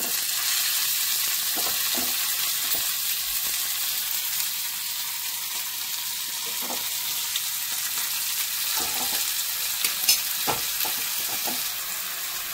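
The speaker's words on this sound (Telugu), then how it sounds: "ఇప్పుడు మనం చింత చిగురు వేసేసుకుందాం." Tamarind leaves fry with garlic in a pan, giving a steady, moderately loud sizzle and hiss with scattered soft clicks and taps from stirring, and no talking.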